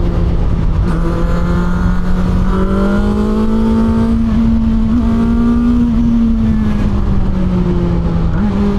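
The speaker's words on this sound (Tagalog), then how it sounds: "Mabigat yung bike pero yung acceleration niya ang lakas ng bigay yun." A Benda LFC 700 inline-four cruiser motorcycle accelerates hard from the rider's position, its engine drone loud and close, climbing in pitch through the gears with brief dips at the shifts and constant wind noise.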